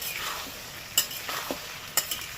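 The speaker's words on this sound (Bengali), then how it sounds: "এবার ভালো করে কষিয়ে নেবে" Chili, cumin and coriander powder sautéing in hot oil for a fish oil curry sizzle close by, with two sharp spatula scrapes about a second apart over the frying.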